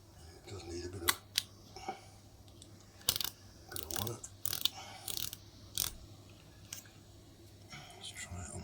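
Pax M2 rangefinder camera shutter firing in several sharp mechanical clicks and snaps with a light ratcheting winding, close up and intermittent, while someone talks quietly over it.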